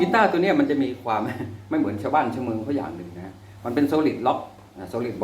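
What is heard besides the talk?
No distinct noise like a dog, phone or traffic.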